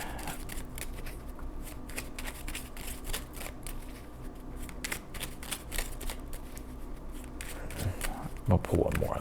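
Tarot cards being shuffled and drawn, a steady stream of soft riffling and flicking throughout with a slight swell near the end, while a voice speaks quietly underneath.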